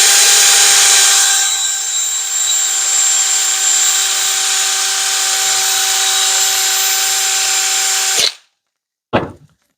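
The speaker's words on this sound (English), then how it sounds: "Drum sander guy." A drum sander grinds material off a Chevelle car kick panel in a loud, steady whine for about eight seconds, then cuts off abruptly, followed by one brief burst after a pause.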